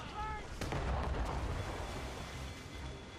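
Ship cannons fire during a naval battle in the video game Assassin's Creed Rogue, giving a loud booming blast followed by rumbling, crackling battle noise, with faint voices in the mix.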